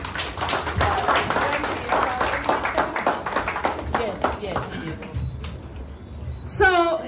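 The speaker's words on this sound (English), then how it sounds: "let's give them a round of applause" Clapping from attendees at a high school class reunion rattles on for several seconds, close and moderately loud with people talking over it, fading before a brief higher chirp at the end.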